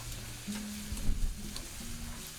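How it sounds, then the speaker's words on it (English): Teriyaki-marinated beef tenderloin medallions sear in a hot pan with a steady, quiet sizzle, broken by brief stirring and handling noises, and no voice is heard. "We're just looking for a nice sear on the steak."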